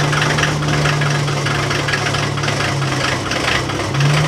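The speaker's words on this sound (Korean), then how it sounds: "엔진 소리 봐." A 1980 Mercedes-Benz 230 G's carbureted engine idles steadily up close, a low rumbling drone with a faint rhythmic knock and no one speaking.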